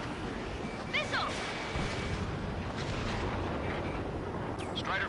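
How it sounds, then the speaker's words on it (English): Explosions and an incoming missile in the air-combat video game Ace Combat 7, a continuous roaring rumble of gunfire and blasts under intermittent radio-style voices. "Evading incoming missile."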